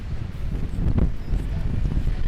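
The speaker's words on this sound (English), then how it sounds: "It's super windy right now." Steady low rumble of wind buffeting the microphone at Punta Sur, Cozumel, gusting a bit louder around the middle of the short stretch, with no clear voices.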